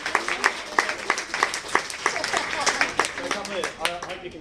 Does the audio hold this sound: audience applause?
yes